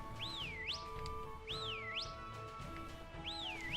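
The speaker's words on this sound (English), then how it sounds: "That's a whistle." Three rising-and-falling whistle calls in Pokemon Scarlet/Violet, evenly spaced and clear over a soft game background, fairly faint and alone with no talk.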